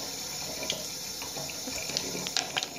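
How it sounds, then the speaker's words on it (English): Warm water runs from a kitchen sink tap in a steady, close hiss and splash, with a few faint clinks of items being handled nearby. "I'll start a little bit of warm water."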